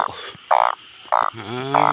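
Frogs croak close by during a rainy-night hunt for frogs and narrow-mouthed toads. Loud, buzzy croaks come in about four separate bursts at an uneven rhythm, with quieter calls between them and no voices.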